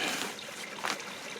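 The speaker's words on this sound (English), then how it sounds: "I got the little trickling river beside me." Soft, steady trickle of a small river running beside a snowy back step outdoors, a close, gentle watery babble with no talk.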